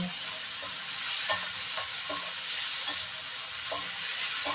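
Stir-fry sautéing in a pan, a steady close sizzle and hiss broken by intermittent metal clinks and scrapes of a utensil stirring, with no talking.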